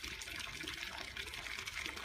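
Water spouting from a carved stone statue fountain on a castle tour, a steady broadband splashing gush that runs without a break from start to finish at moderate distance, with no voices over it.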